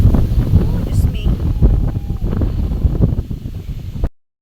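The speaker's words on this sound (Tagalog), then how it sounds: "Napakalakas ng hangin." Strong wind roars and buffets the microphone in a heavy, continuous low rumble over a wide rice field, with a voice faintly audible underneath.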